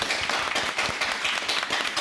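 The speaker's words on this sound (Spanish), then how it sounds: "eso sí merece un aplauso, pero bien fuerte" Applause from a studio audience on a Spanish-language talk show, a dense steady patter of many hands clapping at close range with no voices over it.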